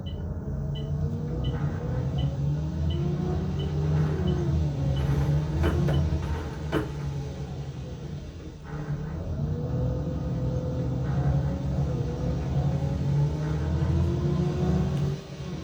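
An ADL Enviro 400 double-decker bus in the OMSI 2 simulator, engine at full throttle while holding gears: a loud, steady, low rumble that drones throughout and rises and falls in pitch with the revs.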